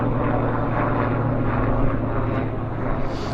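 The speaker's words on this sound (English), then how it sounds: "S-76 helijet flying by." A Sikorsky S-76 helicopter flies past at Vancouver airport with a steady, dense rotor and turbine roar that holds constant, then eases slightly toward the end.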